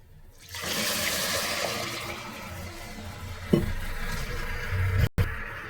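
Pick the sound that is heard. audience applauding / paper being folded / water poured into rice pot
water poured into rice pot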